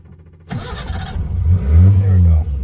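A Crosley car's small engine catches and revs up with a rising, throaty roar at close range, while people talk over it.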